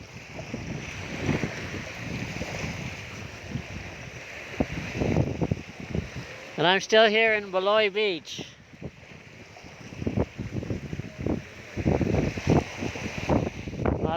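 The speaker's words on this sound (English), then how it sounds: "It's quite windy here, so I'm not sure how my voice is going to come out" Gusty wind at Baloy Beach buffets the microphone in rumbling bursts while someone talks, with a brief whining engine-like tone in the middle and surf hissing behind.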